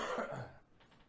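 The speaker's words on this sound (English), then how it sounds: "sorry, I'm just coughing today." A single close cough, brief and moderately loud, fading into quiet room tone with no talk.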